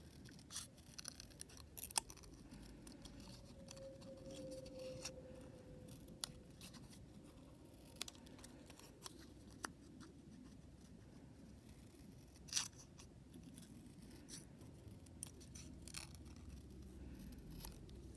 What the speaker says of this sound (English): I have fussy cut my first set of leaves